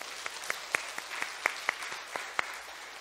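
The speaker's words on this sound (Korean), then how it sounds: "우리 하나님께 한번 영광의 박수 올립시다." A church congregation applauds, giving a round of scattered, distinct handclaps at an uneven pace, moderately faint against a quiet room.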